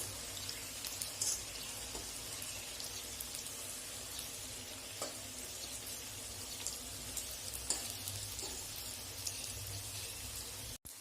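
Suji and atta pitha frying in oil over a low flame, a faint, even bubbling sizzle with scattered soft pops and clicks, steady and undisturbed, no talking.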